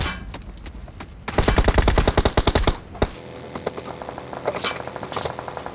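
Rapid automatic gunfire in a video game, a loud fast burst of evenly spaced shots lasting a couple of seconds, then scattered quieter, more distant shots and clatter.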